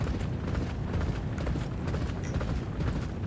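Many horses gallop together in a race in the video game Champion Jockey, a dense, continuous rumble of hoofbeats that stays loud and steady throughout with no talking.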